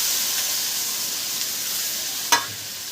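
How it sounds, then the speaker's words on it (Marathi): Eggplant sizzles in hot oil with a steady, close, bright hiss, broken briefly by one sharp clatter near the end; no one speaks. "आता आपण टाकू वांगे तेलामध्ये."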